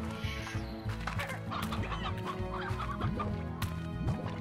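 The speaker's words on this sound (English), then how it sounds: "A rooster!" Rooster clucking and crowing in the Slime Rancher video game, with repeated clucks over a steady bed of game music and effects.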